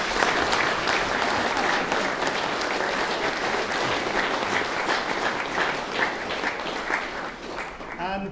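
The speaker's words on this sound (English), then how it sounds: "they deserve a bigger clap than I do" A crowd at a 25th anniversary craft festival gathering applauds the long-serving original committee, with sustained, even clapping from many people at moderate loudness throughout.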